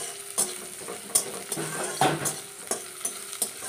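Onions frying in a pan for puti fish curry, a continuous close sizzle broken by repeated scraping strokes of a spatula stirring at an uneven, unhurried rhythm.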